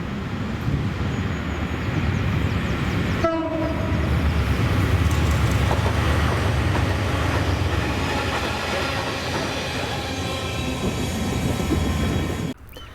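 Freight train 6S54 rumbling past, hauled by locomotives 68017 and 018, a loud continuous roar of engines and wagons rolling by up close for most of the stretch, then cutting off abruptly.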